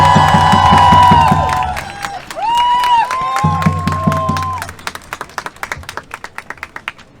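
A large crowd at a rally of Iranians in Melbourne cheers and shouts. Applause follows, thinning to scattered individual claps toward the end.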